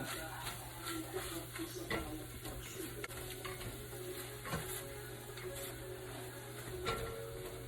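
Coconut milk frying down into latik in a pan, bubbling steadily as the oil separates out, with faint stirring and scraping clinks over a constant low hum.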